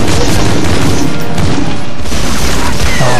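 Gunfire and explosions rattle through a World War II shooter, Medal of Honor Frontline on PlayStation 2, with loud, dense bursts of shots and booming impacts filling the whole stretch without letup.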